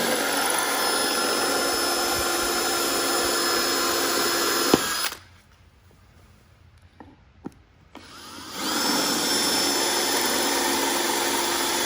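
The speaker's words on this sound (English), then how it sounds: "I'll drill this one right here." A power drill bores into a travertine stone floor, a loud steady whine that cuts out for a few seconds of near quiet with small knocks, then starts up again and keeps running.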